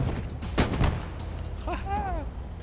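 Heavy artillery in a tank battle video game fires a couple of close booming shots early on, then a whistling whine follows while someone talks over it.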